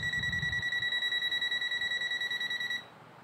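A Habotest HT123 multimeter detecting a live wire emits a loud, continuous, rapidly pulsing high electronic beep that cuts off near the end, with no talking.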